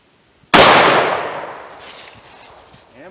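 A snub-nosed revolver fires a jacketed bullet outdoors: one sharp, loud report hits out of silence, then rings and decays slowly over the next couple of seconds.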